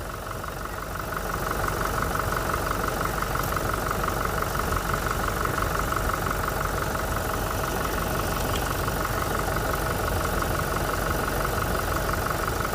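Engine of a 2025 Toyota Innova idling steadily for the whole stretch, a smooth constant hum at moderate level with no revving and no voices.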